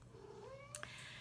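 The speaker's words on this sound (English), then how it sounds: "I have a kitty here that wants to talk to us" A house cat gives one faint, rising meow close by in a quiet room, brief and alone.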